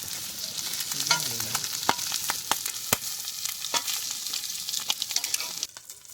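Egg frying in oil in a pan after being flipped, a steady close sizzle broken by sharp spatter pops and a brief scrape of a spatula, with no talking.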